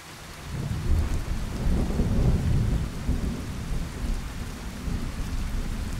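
Steady rain and low rolling thunder from a storm in the video game Fallout: Tale of Two Wastelands, a dense continuous wash that swells and settles with no voices over it.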